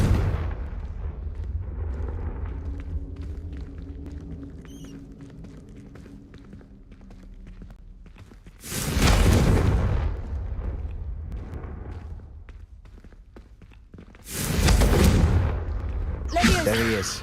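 Spell explosions in the Hogwarts Legacy video game: two loud bursts of blast noise, each about a second long, over a game soundscape with voices.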